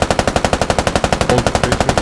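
Automatic gunfire in the video game Squad, a rapid, evenly spaced burst of loud, close shots firing about eight rounds per second without pause for two seconds.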